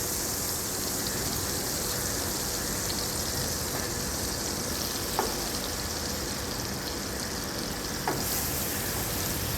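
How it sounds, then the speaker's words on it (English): Chopped onion fries in hot butter with a steady, dense sizzle that runs the whole way through, with faint clinks of stirring now and then and no voices. "We'll add the chopped onion."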